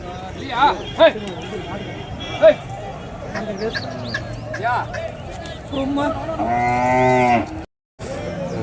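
Cattle at a livestock market moo in several loud, drawn-out calls, the longest near the end, with people talking among the animals and general market bustle.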